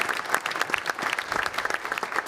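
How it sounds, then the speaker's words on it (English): A live audience gives two golf club guests joining a quiz stage a big round of applause, a close, energetic burst of dense clapping with sharp individual claps throughout. "Give them a big round of applause."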